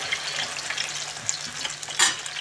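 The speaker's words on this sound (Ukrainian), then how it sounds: "І смажимо з іншої сторони до золотистої скоринки." Steady oil sizzle of cheese-filled potato pancakes frying in a pan, crackling continuously up close, with a brief louder spatter near the end.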